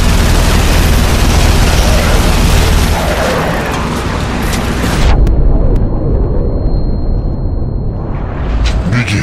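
A massive explosion in the video game The Saboteur roars loud and dense, a sustained broadband blast with rumbling debris that abruptly thins midway, then swells again, with no voices heard.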